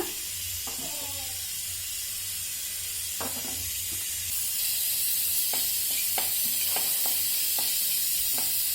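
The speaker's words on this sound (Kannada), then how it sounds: "ಅನಾರಸ್ ಹೂವನ್ನು 2 ಹೂವು ಬಿಸಿ ಮಾಡ್ಕೊಂಡಿದ್ದೀನಿ." Star anise and whole spices dry-roast in a hot pan, giving a steady hiss with sporadic scraping stir strokes up close, the hiss growing a little louder halfway through.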